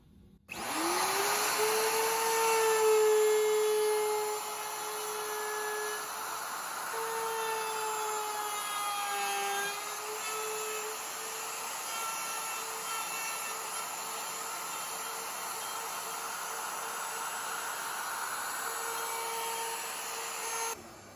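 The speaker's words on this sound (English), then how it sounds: "Don't lift up the router at all when you're doing this process." A handheld router fitted with a ball-bearing bit cuts wood in a jig while building an acoustic guitar's end wedge and top mortise. It makes a steady, loud high-pitched whine that holds for the whole stretch with slight pitch dips, and no one speaks.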